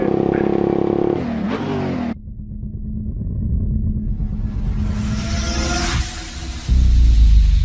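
A Suzuki GSX 150 R motorcycle fitted with a DST racing exhaust revs and roars close by, its engine note rising and falling, with a brief lull, then a loud low burst near the end; no talking.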